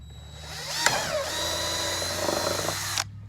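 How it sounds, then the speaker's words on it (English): A power drill bores a hole through a plastic container for a self-watering garden planter, a loud steady whine that strains as the bit bites in and cuts off abruptly after about two seconds. "I'm gonna measure roughly 5 inches from the bottom of the container, and that is approximately right here,"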